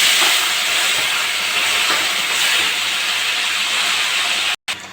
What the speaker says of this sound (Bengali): সব মাছগুলো তুলে নিয়েছি, আমি একইভাবে ভেজে নেব।